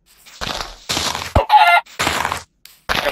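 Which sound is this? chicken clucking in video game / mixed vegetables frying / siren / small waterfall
chicken clucking in video game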